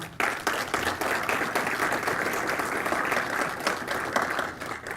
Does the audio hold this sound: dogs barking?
no